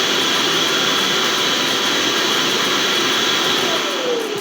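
Ecovacs Deebot X1 Omni robot vacuum base station emptying dust, a loud, steady rushing roar of suction with a high whine that holds throughout, close and uninterrupted.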